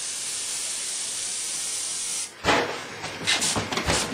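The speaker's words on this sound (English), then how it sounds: "Central Pneumatic airbrush, 20 bucks at Harbor Freight." A twenty-dollar Central Pneumatic siphon-feed airbrush from Harbor Freight spraying Createx paint in fine lines: a steady hiss throughout, then bursts of sharper spraying with a series of short pulses near the end, no voices.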